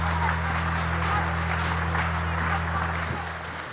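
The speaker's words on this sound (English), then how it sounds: "Please give them one last mighty round of applause." An audience at the Golden Shears open woolhandling final claps in a steady wash of applause over a low, constant hum in a hot hall.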